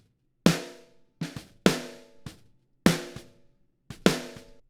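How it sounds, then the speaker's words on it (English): An uncompressed snare drum track plays alone: four sharp, bright snare hits, each followed by a softer ghost stroke, in a loose groove, with short natural decay and no voice. "So without compression, our snare track sounds like this."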